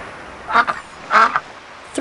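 Ducks quacking in the I Spy Treasure Hunt video game, two or three short nasal quacks spaced apart over a quiet background hiss.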